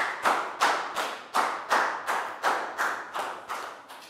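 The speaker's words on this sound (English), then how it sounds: "High five, big round of applause for Dan." Children in a Year 4 science lesson clap for a pupil named Dan: about a dozen separate, evenly spaced sharp claps in a slow steady rhythm, close and fairly loud, with no talk over them.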